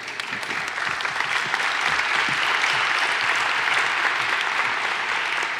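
An audience applauds at the Manhattan grand opening of Grameen America. Dense, steady clapping from a large crowd continues without a break throughout, with no speech.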